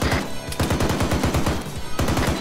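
Automatic weapon fire in a military video game, rapid bursts of shots in a fast regular rhythm, loud and close, with a brief gap before firing resumes.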